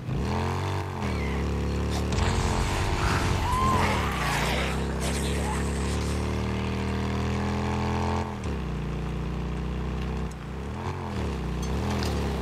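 Motorcycle engine in the Days Gone video game, a loud steady rumbling drone whose pitch climbs and falls as the throttle is worked, revving harder in the middle and easing near the end, running throughout.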